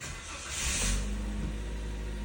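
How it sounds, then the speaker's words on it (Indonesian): A 2017 Toyota Agya TRD with an automatic transmission cranks briefly and catches, its starter whir rising into a firm, steady idle that settles low and even, close and clear with no voices. "Suara cranking mesinnya nih."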